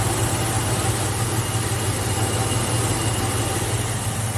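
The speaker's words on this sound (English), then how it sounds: "Compressor's running." A/C compressor running in the engine bay of a 1971 Mopar, heard as a steady, loud idling drone with a low hum and constant mechanical whir, unchanging throughout, with no talking.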